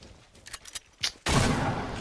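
Pump shotgun fire in the Fortnite battle royale: several sharp close blasts in quick succession, then a loud sustained burst of gunfire and impact noise that fills the end.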